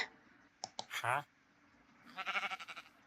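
A few sharp clicks, then a short bleat, and after a pause a longer, wavering sheep bleat in Minecraft, moderately loud and close.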